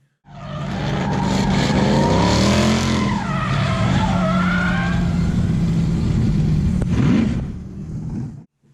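A drifting car's tires screech in a long, loud skid over a roaring engine, the squeal rising and bending before cutting off abruptly.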